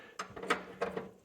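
A Superior WRT3920 wood stove's damper lever is pulled again, and the combustor housing moves with a few sharp metallic clicks and rattles spread over about a second.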